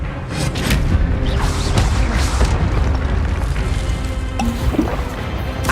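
A fire spell cast in Hogwarts Legacy erupts as a loud, booming whoosh of flame with a dense rumbling roar that holds for several seconds, with a few brief crackles toward the end.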